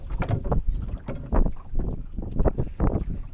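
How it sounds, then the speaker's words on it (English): Wind buffets a Drascombe Lugger sailboat sailing in a freshening breeze, with gusty, uneven rushes of air and water noise close to the microphone and no talking. "There's a nice little breeze has suddenly set in. This is brilliant. We're sailing."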